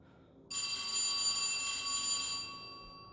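A bright electronic telephone ring in the video game At Dead of Night starts abruptly and holds steadily for about two seconds before fading, with no talking.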